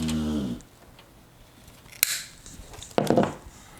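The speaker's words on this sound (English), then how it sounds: "And let me snip this off." A cutter snips something off during a PC build, a sharp click near the two-second mark followed by a brief burst of crisp snipping sounds, close up and fairly quiet, after a short stretch of speech at the start.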